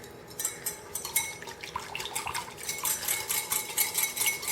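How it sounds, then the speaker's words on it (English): Glaze ingredients with pineapple juice being whisked in a bowl, a steady run of quick, bright metallic clicks and wet swishes that grow busier and louder toward the end, with no talking. "so now we're just going to whisk all those ingredients together"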